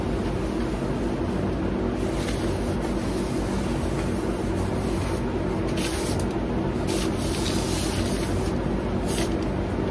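Mini Mite 5 spray gun painting a car hood, giving a steady continuous hiss of atomized paint and air at close range for the whole stretch, with no talking.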